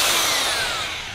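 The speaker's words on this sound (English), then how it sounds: "The new drill works wonders." A new, upgraded power drill runs steadily at close range, a loud continuous high-pitched whine with a slight downward drift in pitch, no talking over it.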